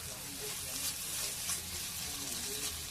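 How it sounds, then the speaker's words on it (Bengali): Spices for soybean chowmein being sautéed in a pan, giving a continuous broad sizzle with faint stirring scrapes, steady and close throughout. "এবারে আমি আরো একটু কষাবো"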